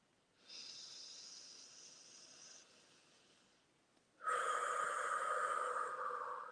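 A dog's snoring breaths, one long soft exhale followed by a louder, raspier one, close by in a quiet room.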